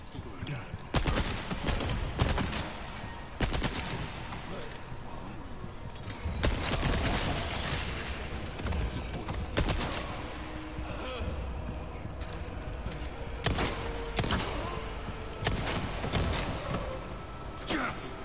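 Bursts of TMP submachine gun fire in the Resident Evil 4 Remake video game, loud repeated rattling volleys recurring throughout amid game noise.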